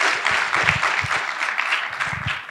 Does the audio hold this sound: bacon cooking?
no